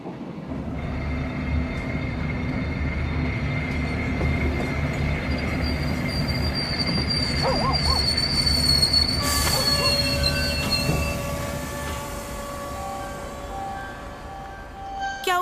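A train runs steadily on rails with loud, continuous wheel squeal, sharp high screeches rising over a deep rolling rumble throughout.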